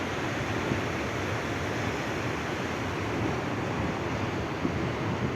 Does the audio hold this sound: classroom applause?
no